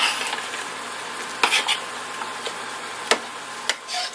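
Sausage sizzles steadily in a pot with a constant hiss while a spoon breaks it up, adding occasional sharp clanks and scrapes against the metal. No one talks.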